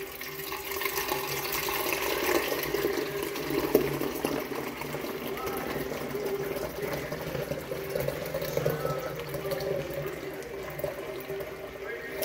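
Cold-brewed yerba mate poured through a sieve into a jug, a steady continuous trickle and splash of liquid running without break, with talk over it.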